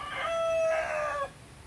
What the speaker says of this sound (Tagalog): mga alagang pangsabong na manok dito sa likod bahay